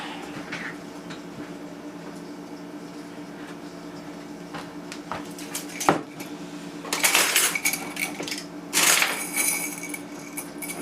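Screws in a metal container being rummaged through, with quiet shuffling at first and then louder bursts of metallic clinking and rattling in the second half.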